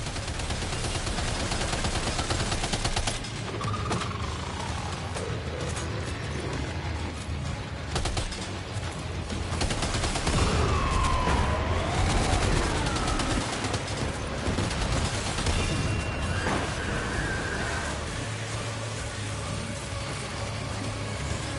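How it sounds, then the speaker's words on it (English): Gunfire in the video game Death Stranding 2: On the Beach, dense sustained shooting bursts under loud continuous game noise and effects, with no talk. "Opening fire now."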